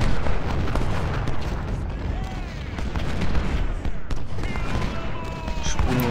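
Dense, continuous battle noise from the Civil War strategy game Ultimate General: Civil War, with cannon fire booming steadily amid a rumbling mix of gunfire, loud throughout.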